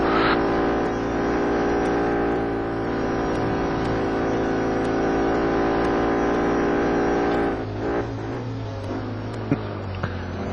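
Touring cars race through the Snetterton chicane in the rFactor sim, a loud continuous engine drone with steady harmonic whine that holds for several seconds, then drops and shifts pitch as the cars brake and change gear.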